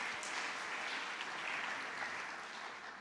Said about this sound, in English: There's no need to applaud him.